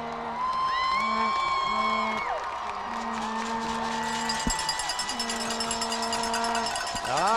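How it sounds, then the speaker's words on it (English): A football crowd roars for the Shasta Wolves' grand entrance at the 2018 Riverbowl against Enterprise. Loud, steady cheering carries sustained horn-like tones and rattling cowbells throughout. "you'll hear the big crowd roar as soon as they start moving"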